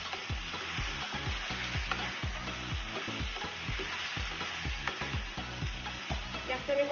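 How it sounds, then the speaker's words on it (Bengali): Jackfruit curry, Bihar style, is stir-fried in a pan on a gas stove. A spatula scrapes in quick, steady rhythmic strokes over a continuous close sizzle that lasts throughout. "ভালো করে একটু তরকারিটা একটু কষে নেব।"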